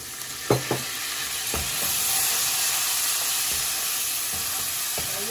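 A splash of water poured into a pan of frying garlic and turmeric for kali mirch chicken, a couple of sharp clatters and then a swelling hiss of steam and sizzle that settles into a steady fry.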